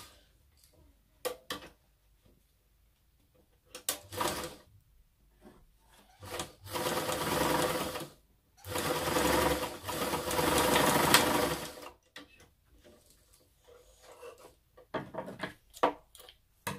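A sewing machine topstitches a reusable fabric face mask in several short bursts of rapid mechanical whirring, close and fairly quiet, separated by pauses with scattered small clicks and handling sounds.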